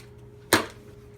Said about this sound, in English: You take the cheesecloth. You cut off a piece like this.